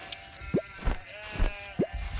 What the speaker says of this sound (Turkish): Ee, koyunları hiç beslemedik. Koyunlara da bakalım.